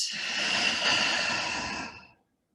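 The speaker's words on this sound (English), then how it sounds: "And then as you're ready, a cleansing breath out." A single long, airy exhale during a vinyasa yoga session, a soft cleansing breath out that fades smoothly and stops after about two seconds, close and unaccompanied.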